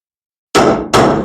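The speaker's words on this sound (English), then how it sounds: "I'm just using a regular chisel and a hammer" Two sharp metallic hammer blows on a chisel, driven to break out spot welds on a rusty car body panel, loud and close, the second strike landing about 0.4 seconds after the first following a brief silence.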